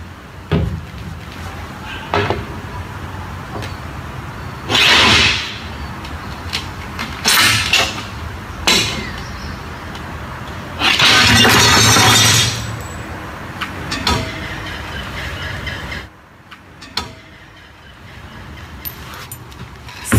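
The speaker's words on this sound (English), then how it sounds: "You'll see my other clips of what happens when I break safety glass, and this is not safety glass." Ordinary non-safety glass from a pet access door is broken, giving several sharp cracks and clinks and one loud, drawn-out shatter of falling shards, with handling knocks between.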